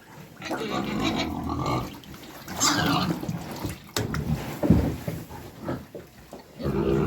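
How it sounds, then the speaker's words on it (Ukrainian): Young pigs on a farm scuffle and fight as they roam about, with grunts and squeals over shuffling movement, fairly close and continuing throughout, rising and falling in bursts. "Таке, як починає гуляти та свинка, гля-гля-гля, що роблять. От ненормальні, б'ються, капець."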